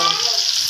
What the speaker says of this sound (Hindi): ये जी हमारे शामी कबाब फ्राई हो रहे हैं